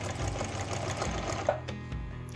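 A sewing machine stitches trouser fabric with a quiet, fast, continuous mechanical whirr, steady for a couple of seconds with a small click partway through.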